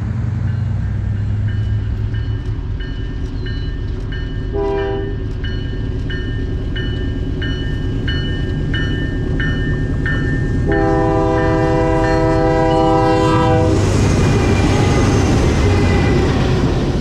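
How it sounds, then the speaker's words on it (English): A BC Rail 'Bluebird' freight train departing Transcona Yard, Manitoba, rumbles loudly nearby as its horn blows a short blast, then a longer sustained blare, with steady rolling clatter underneath. "We waited around at Transcona Yard for the train to depart on its journey to Toronto."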